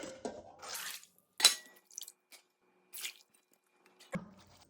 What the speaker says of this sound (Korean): 이 물기를 뺀 톳잎은 찬물에 헹궈줄게요. 이렇게 찬물에 두어 번 헹궈줄게요.